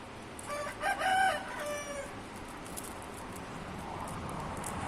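Indian game roosters fight; one crows and clucks briefly in the foreground over a constant rustling, scuffling background noise, with no voices.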